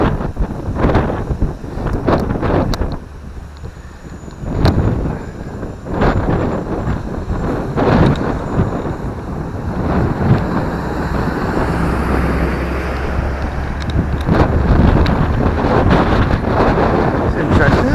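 Wind blowing outdoors on a countryside walk near Leyburn and Middleham, buffeting the microphone with loud, gusty rumbling throughout, with occasional thumps and faint sounds of movement.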